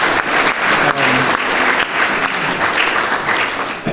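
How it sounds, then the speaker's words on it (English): An audience at a panel discussion on melting ice and rising seas applauds, a loud, dense clapping that holds steady for about four seconds. "Give it a clap."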